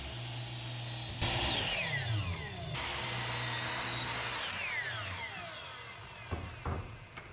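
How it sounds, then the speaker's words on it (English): A power saw cuts through 2x6 wood boards for a rustic dog bed, its motor spinning up with rising and falling whine as the blade bites the lumber, followed by a few short knocks of handled wood near the end. "I start off by cutting the floor size of my bed."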